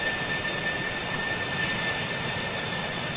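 A steady, broadband jet roar with a thin high whine comes from an Emirates Boeing 777-300 airliner on approach to Manchester Airport, constant and moderately distant with no voices.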